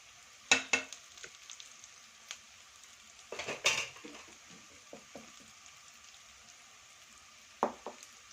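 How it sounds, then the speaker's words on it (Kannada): Spices for green gram gravy frying in a pan, faint sizzling with sharp clicks and scrapes of a spoon against the pan, scattered taps spread across the stretch. "ಚೆನ್ನಾಗಿ ಫ್ರೈ ಮಾಡ್ಕೊಳ್ಳಿ"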